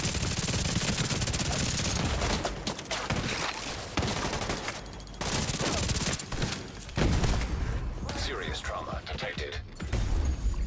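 Heavy gunfire in a shooter video game, dense overlapping bursts and mechanical clatter filling the whole stretch, loud and continuous with brief gaps.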